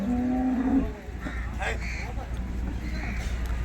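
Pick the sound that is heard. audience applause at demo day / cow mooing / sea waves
cow mooing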